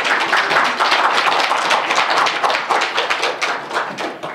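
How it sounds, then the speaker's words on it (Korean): Church revival-meeting congregation clapping to welcome an elder: loud, close, dense applause with sharp individual claps, thinning into more distinct, uneven claps toward the end. "우리 박수로 한번 환영하십시다."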